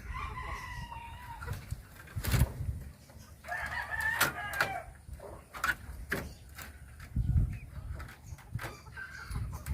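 Bantam chabo chickens in a backyard breeding pen, with a rooster crowing twice amid scattered clucks and light handling noises, moderately close.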